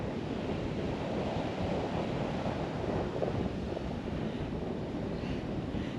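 Strong wind and big surf batter a remote, isolated Western Australian beach on the Great Bight, a constant loud rush of breaking waves and gusting wind buffeting the microphone with no break.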